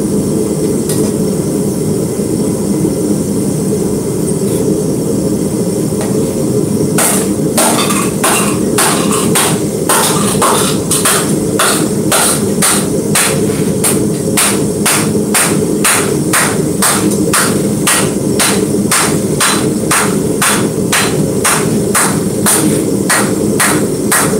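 Steady metallic hammer blows on copper, a rapid even rhythm of sharp strikes starting a few seconds in, over a constant low background hum.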